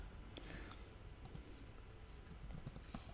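Clicky computer keyboard keys typing code in a web framework editor, a quick irregular patter of close, soft keystrokes with brief pauses, no voice.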